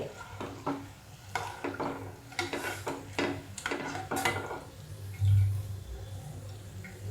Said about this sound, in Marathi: मी आता सगळी अशी तळून घेते